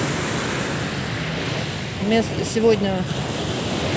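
Sea waves washing onto a nearly empty beach at Nha Trang at sunset, a steady broad surf wash with someone speaking briefly over it.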